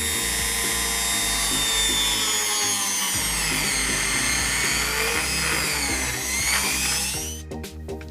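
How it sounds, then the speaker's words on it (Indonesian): Mini drill boring into a wooden plywood board, a steady high-pitched whine with slight pitch wobble that runs for several seconds and then cuts off, heard up close. "untuk alasnya siapkan papan kayu atau papan triplek dan tinggal kita bor saja"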